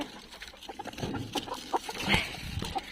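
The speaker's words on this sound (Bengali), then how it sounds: "এগুলো করকনাথ মুরগি, মানে একেবারে কালো যে মুরগিগুলো" Several Kadaknath chickens, an all-black breed, cluck softly in short, irregular bursts, close by, with light scratching and a faint trickle in the background.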